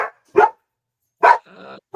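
A dog barks in three short, loud, close bursts with gaps between, with a brief whine-like tone after the second bark and no talk.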